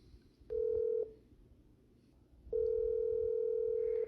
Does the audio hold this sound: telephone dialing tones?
yes